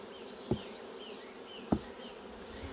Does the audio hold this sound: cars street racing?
no